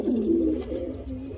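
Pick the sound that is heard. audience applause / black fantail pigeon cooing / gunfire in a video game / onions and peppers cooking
black fantail pigeon cooing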